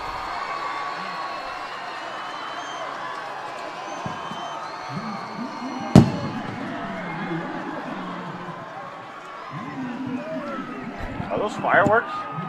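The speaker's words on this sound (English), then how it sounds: "Well, we found out what the loud bangs are. Somebody's lighting off fireworks." Fireworks set off in a parking lot beside a high school football game between Mountainside and South Medford: one sharp, loud bang, with a fainter burst of crackling pops later, over steady crowd noise and a commentator's voice.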